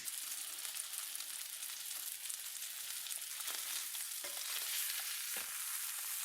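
Steady, dense sizzling of chicken frying in oil in a heavy cast-iron grill pan over medium heat, continuous throughout with occasional soft clinks and stirs.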